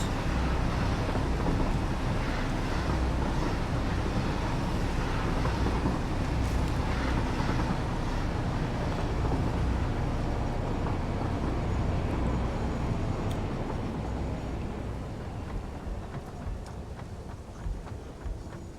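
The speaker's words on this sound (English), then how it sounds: "Sorry, I can't hear you over the sound of how noisy this train is." A noisy train runs in the Satisfactory factory-building game, giving a dense, steady rumble and roar that fills the whole stretch without letup, loud and close, with faint clicks near the end.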